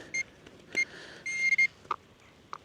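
A metal detector sweeping a field gives a string of brief electronic beeps and chirps for iron targets, several short tones at uneven intervals, clear and close over a quiet outdoor background.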